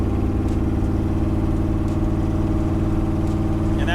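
A 1940 Ford hot rod with a 392 Hemi V8 cruising at about 45 to 50 mph with its exhaust open, giving a steady, loud, deep rumbling drone that holds even throughout with no voices.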